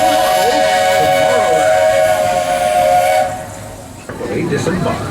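A Buckeye three-chime steam whistle sounds a loud, sustained harmonic chord for about three seconds, then cuts off into hissing steam and background rumble from a train.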